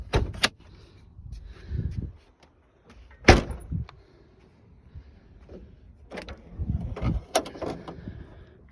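A 1986 Pontiac Fiero SE has its front trunk opened by a lever, with a series of sharp clunks and latch clicks, one loud knock near the middle and a few softer thuds and rattles, close by.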